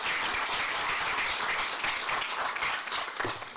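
An audience at a water-efficient sanitation symposium applauds after a keynote address, a steady wash of clapping from a sizeable crowd that holds evenly and begins to fade near the end.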